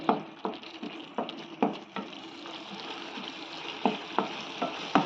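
Tomato chutney simmers in a pan on a gas flame, a soft bubbling bed broken by repeated sharp pops and spatters at irregular intervals, close by with no talk.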